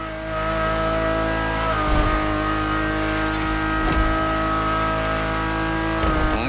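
A Ferrari supercar engine in The Crew Motorfest racing game holds a steady, loud, harmonic-rich drone heard from inside the car, with brief shifts or dips in pitch around two, four and six seconds.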